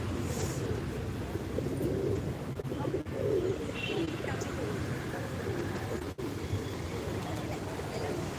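Pigeons coo softly and repeatedly while drinking water, a low continuous murmur of calls with faint background noise and occasional higher chirps.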